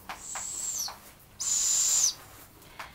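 Fledgling barred owls give high, drawn-out wheezy screeching calls, one shorter and one longer, near and clear, with faint softer chirps between them.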